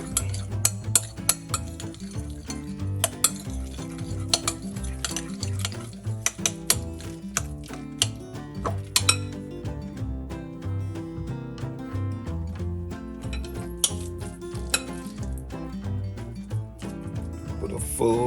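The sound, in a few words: egg salad being mixed in a bowl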